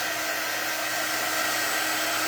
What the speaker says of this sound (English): This is just our heat set tool.